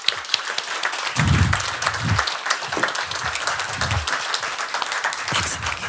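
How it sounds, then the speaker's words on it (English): Warm audience applause fills a room at a business climate survey presentation, dense and steady for the whole stretch, with a few low vocal sounds mixed into the clapping. "Give her a warm applause."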